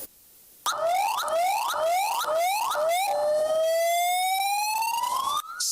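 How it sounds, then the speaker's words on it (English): Police car sirens wailing loud and close in Abuja, a rising and falling yelp cycling rapidly several times before shifting into a steady, slowly climbing wail, with no talk over it. "Sirens sound offensive in the ears of the criminals, but the police is out to blow it louder."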